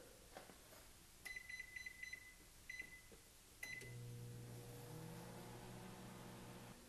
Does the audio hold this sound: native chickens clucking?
no